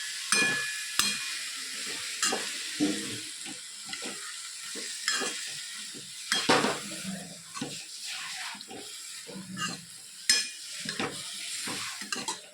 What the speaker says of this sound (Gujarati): સરસ બધું મિક્સ કરી લઈએ.